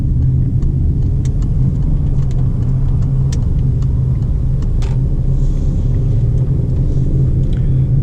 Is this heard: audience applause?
no